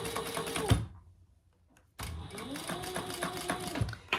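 A sewing machine top stitches a fabric shoulder bag in two close, rapid mechanical runs separated by a short pause, with the motor whirring up and down in pitch.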